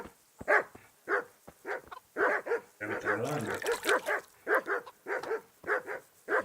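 Several dogs bark in the video game Kingdom Come: Deliverance, sharp repeated barks at a steady rhythm, loud and close, with a brief burst of scuffling noise in the middle and someone speaking briefly over them.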